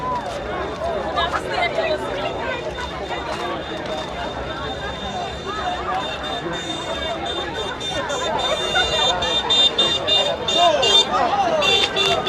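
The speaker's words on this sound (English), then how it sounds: "Alright, we'll go through the crowd." A dense carnival crowd at the UWI Carnival walk on the Jamaica campus chatters and shouts all around, a continuous loud babble with scattered louder voices that swells toward the end.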